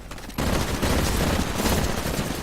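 After a short quiet moment, rapid continuous automatic gunfire erupts in a Titanfall Capture the Flag match and keeps going, a dense, loud burst of shooting.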